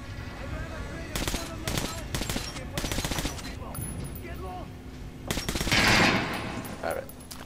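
Bursts of AK rifle fire in Metro: Last Light, several rapid automatic volleys with short pauses between them, loud and close over a low game ambience.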